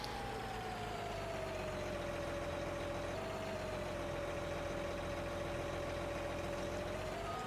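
A tractor engine drones steadily in the farming video game Farming Simulator 19, a loud, continuous mechanical hum with a slight pitch shift midway, heard alone without speech.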